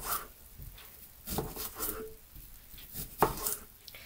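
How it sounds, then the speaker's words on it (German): A knife cuts a shallot on a cutting board, giving a few close, irregular taps and thuds with short pauses between them and no talking. "Parallel schneide ich schon mal eine Schalotte klein"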